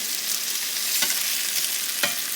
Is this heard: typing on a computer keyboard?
no